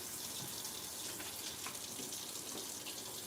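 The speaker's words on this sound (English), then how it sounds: "I'm gonna wash my hands." Hands washed under a running kitchen tap, a steady loud hiss of flowing water with small splashes from the hands in the stream, no voices.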